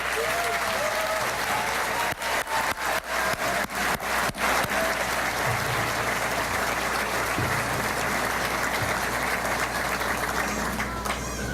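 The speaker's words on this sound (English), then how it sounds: "give them all a round of applause" Audience applause for student art finalists at the ArtPrize unveiling, dense and steady for the full stretch with a few sharper individual claps standing out near the start, loud and close.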